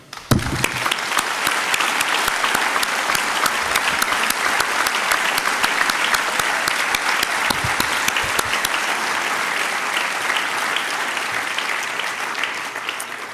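An audience at an official opening ceremony gives a long, sustained round of applause, thick and even from start to finish before it tapers slightly at the end.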